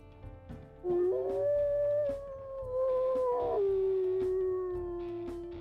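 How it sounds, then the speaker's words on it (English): A long, wavering wolf howl in the game WolfQuest, rising and falling in pitch, loud and sustained, with a steady droning background beneath it. "We'll go ahead, we'll listen to his howls too."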